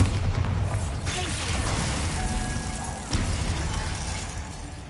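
A Bombarda blasting spell cast in a video game makes a dense, loud crashing burst of debris and rumble, with a second impact swell partway through, all filling the sound close up.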